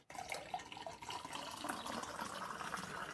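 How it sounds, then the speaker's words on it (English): Liquid pours steadily from a height into a vessel indoors, a continuous splashing, trickling rush that runs almost unbroken from start to finish at moderate level. "That was one high pour."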